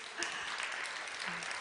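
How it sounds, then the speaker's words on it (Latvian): An indoor audience claps steadily in dense, even applause, moderately distant, with a faint voice underneath. "Aplausi."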